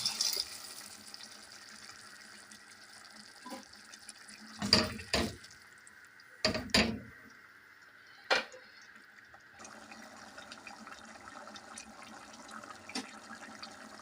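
Water trickles and splashes in short bursts, with a few louder pours and clinks against a cooking pot of white beans, all close and without speech.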